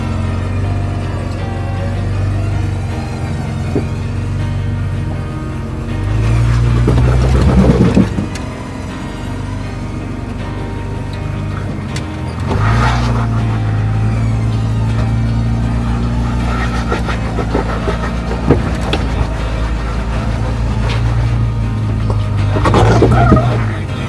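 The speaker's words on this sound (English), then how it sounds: "There is a winch point at the top though, so I'm going to hook up my winch." A Jeep crawls up a rock ledge on a hard trail in Moab, its engine droning loud and close with rising revs, while a steady mechanical winch whine pulls it upward.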